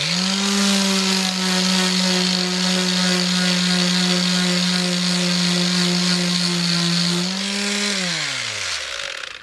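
A Black and Decker KA1000 mouse sander sanding with just its tip gives a loud, steady, close electric whine that holds level, then spins down in falling pitch as the motor stops.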